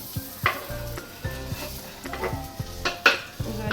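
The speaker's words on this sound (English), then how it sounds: "I'm going to roast the onions also." Onions sizzle and fry in a curry pan while a utensil stirs them, producing repeated scraping strokes and light clinks of metal against the pan, close and fairly quiet, with no talking.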